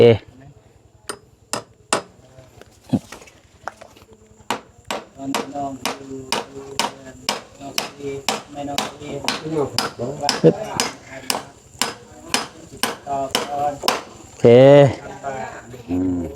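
Nails are hammered by hand at a house, sharp metallic strikes sounding close, first a few spaced blows, then a long steady run of rhythmic hits, with brief talk near the end.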